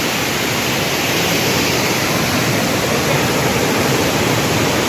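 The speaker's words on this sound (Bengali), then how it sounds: "দেখুন ঝর্ণা" Overflow waterfall at Murguma Dam, a steady, loud, full roar of falling water that holds unchanged throughout with no voices.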